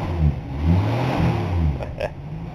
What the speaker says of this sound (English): Go ahead and rev her up a little bit.